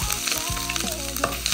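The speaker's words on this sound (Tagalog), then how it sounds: "Then same sa kawali, maglagay ng 1/8 cup ng mantika. Magsaute ng 2 teaspoons grated ginger" Grated ginger sautés in a small amount of cooking oil in a pan, a steady, close, loud sizzle with stirring throughout.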